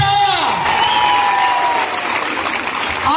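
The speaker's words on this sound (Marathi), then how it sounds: "जोरदार टाळ्या" A crowd at a village Paithani-saree prize contest for women and young girls breaks into loud, sustained applause, dense and continuous clapping filling the whole stretch close by, with a voice faintly present beneath.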